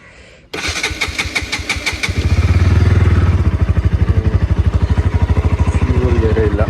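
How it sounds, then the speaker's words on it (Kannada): Cold start of an NS200 motorcycle engine: a short rapid cranking burst, then the engine catches and revs up loudly before settling into a fast, throbbing idle close by. "ಸೊ ಇವಾಗ ಒಂದು ಕೋಲ್ಡ್ ಸ್ಟಾರ್ಟ್ ಮಾಡೋಣ ಗಾಡಿ"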